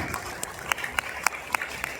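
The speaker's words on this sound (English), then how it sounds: "A big clap and congratulations to principal and her team" Scattered applause at a school Independence Day celebration, a handful of sharp separate claps spaced irregularly over a low room murmur rather than a full ovation.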